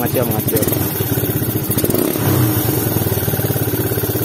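A Satria FU motorcycle with a newly tuned PWK 28 carburetor idles loud and close, its engine beating in a steady rapid rhythm with a slight rise partway, while a person talks over it.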